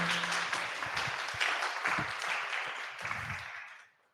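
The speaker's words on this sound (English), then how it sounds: "big round of applause for Lokimo" An audience at a startup demo day gives a round of applause after a pitch, a dense steady patter of clapping from a room of people that carries for a few seconds and then fades away.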